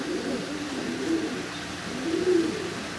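Healthy pigeons coo in low, throaty bursts at a pigeon farm, two rolling coos rising above a soft steady murmur of birds nearby, with no talking.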